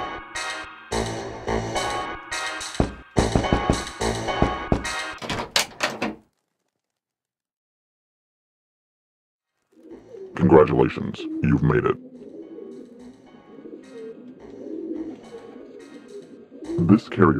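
A carrier pigeon coos in the video game Jazzpunk, soft and close, after a burst of music and a pause. A voice talks briefly around the bird sounds.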